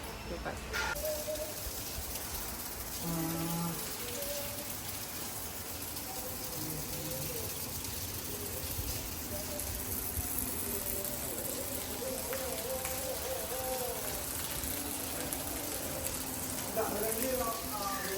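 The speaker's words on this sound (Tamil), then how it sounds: "சூப்பராக மழை பெஞ்சிட்டு இருக்குது." Rain falls steadily and continuously, a dense close hiss and patter that fills the whole stretch with faint other sounds mixed in.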